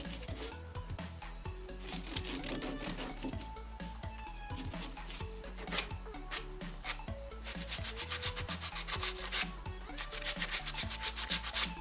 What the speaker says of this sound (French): Ensuite, je découpe un tasseau à 10 cm. Je ponce.